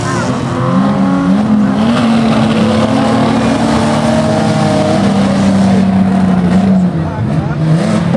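Banger racing cars in a demolition derby final at Arena Essex roar loudly and continuously, engines revving and climbing in pitch while tyres squeal amid the racing.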